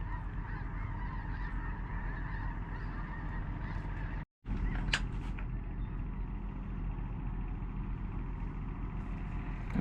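Wild ducks, including teal, call loudly as a flock flies in during a duck hunt, a dense, continuous honking and quacking chorus with a low rumble beneath and one brief drop to silence midway.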